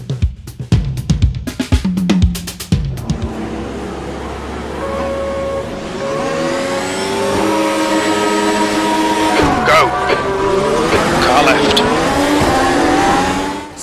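A race car in Automobilista 2 at Donington Park starts the race: rapid revving bursts, then a loud, sustained engine roar climbing through gears with other cars around and brief tire noise.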